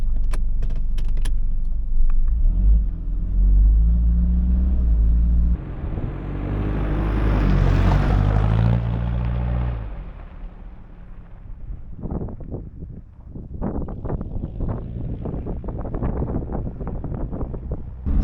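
A right-hand drive car on the move, its engine and road noise steady and close, with wind rushing and gusting and some rattles and knocks from inside the cabin.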